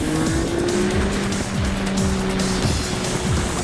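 A tuned all-wheel-drive Nissan GT-R runs 1.3 bar of boost on pump fuel, driven hard through a factory 5-speed. Its engine note rises and falls in loud, repeated revving pulls while tire squeal runs close and continuous.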